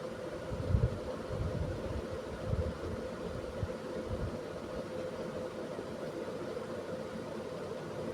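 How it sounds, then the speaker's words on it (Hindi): A sewing machine runs a double line of stitches along a seam of a size-31 lined blouse with four tucks, giving a steady, low mechanical whir with a few slightly louder bumps near the start and no speech. "और पक्की सिलाई के लिए मैं इसके ऊपर डबल सिलाई लगा रही हूँ।"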